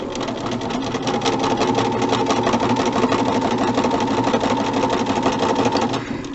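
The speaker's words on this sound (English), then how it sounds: "My needle is right at the top of the fabric there, and I'm ready to sew." A sewing machine stitches quilt fabric at a steady fast clatter, running continuously and close for about six seconds before stopping.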